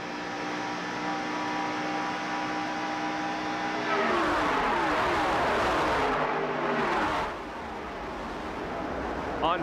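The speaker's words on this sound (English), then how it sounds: "Petty going to the inside of Ron Bouchard, you will hear the driver on and off the accelerator" A stock car engine at Talladega heard from inside the car during the 1987 Winston 500, a loud sustained roar that changes pitch midway as the driver lifts off and gets back on the throttle, with no talk.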